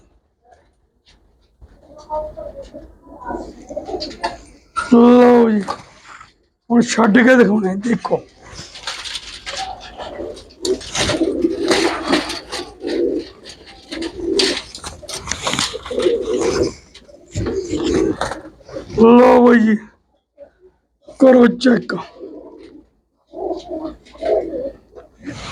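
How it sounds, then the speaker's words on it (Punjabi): Female pigeons coo in repeated throaty bursts close by, several distinct calls scattered among continuous talking from men handling the birds. "ਕਬੂਤਰੀਆਂ ਦੇਖ ਲੋ"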